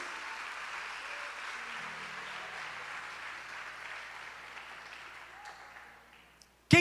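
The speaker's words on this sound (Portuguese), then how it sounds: "E se você crê, aplaude e glorifica Jesus." Steady, fairly faint applause from a church congregation, a continuous wash of clapping that fades out before a sudden sharp sound at the very end.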